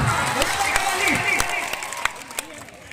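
Scattered applause and crowd noise from an audience at a kushti wrestling match, with sharp claps standing out over a murmur of voices.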